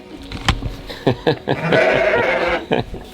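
Sheep on a fenced farm bleat loudly and close by, with several overlapping calls and a long drawn-out bleat among scattered thumps and movement.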